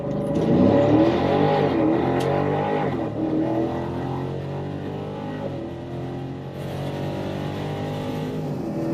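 A drag car at a Mopar bracket racing event launches off idle, its engine roaring loud and close, then settling into a steady sustained drone as it pulls down the track.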